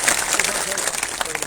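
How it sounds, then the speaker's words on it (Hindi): A dense burst of crowd applause at an outdoor political rally and protest meeting fills the moment, loud and continuous, with some murmur from the gathered people. "उनके लिए भी एक बार आप ताली बजाओ।"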